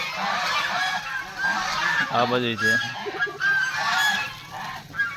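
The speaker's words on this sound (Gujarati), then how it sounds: "કેમ પણ બધા હંસ જો હંસ" Geese honk repeatedly in a noisy chorus nearby, with loud overlapping calls, while a person talks briefly over them.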